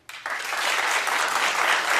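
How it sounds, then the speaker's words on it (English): Studio audience applause on a daytime talk show, bursting in abruptly after a brief quiet start and holding steady as dense, close clapping with no voices over it. "clap if you do"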